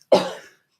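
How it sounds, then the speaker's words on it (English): A person gives one short, sharp cough, close and loud, that trails off quickly into silence. "I just muted myself so I could cough"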